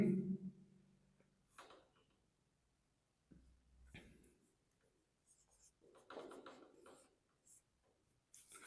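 Handwriting with a pen on a surface while making silage produces faint, close scratching strokes in short irregular bursts separated by quiet pauses.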